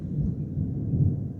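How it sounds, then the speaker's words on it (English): Deep, steady thunder rumbles in the background outside a shack office during a storm, a low continuous roll without sharp cracks. "That thunder that's in the background"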